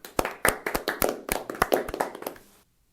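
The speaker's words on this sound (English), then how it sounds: "let's give them a round of applause" A short round of clapping, with about a dozen distinct, fairly close hand claps in an uneven rhythm, sounding like a small group applauding, then stopping abruptly.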